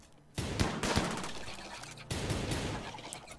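Gunfire in the video game RimWorld, heard as a dense sustained crackle of rapid shots after a brief quiet start, with a sharp renewed burst midway, steady and loud without talk.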